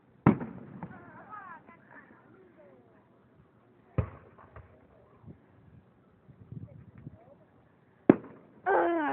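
Late Fourth of July fireworks burst in three sharp, loud booms spaced about four seconds apart, each trailing into crackle and rumble, with a brighter crackling spray at the end and people exclaiming in between.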